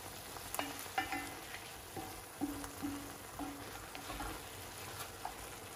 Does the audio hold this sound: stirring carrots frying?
yes